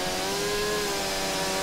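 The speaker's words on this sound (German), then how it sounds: "So, dann probiere ich mal die Säge aus." Virtual chainsaw cutting into a tree in the video game Starforge, a loud, steady motor whine with droning harmonics sustained throughout, nothing else layered over it.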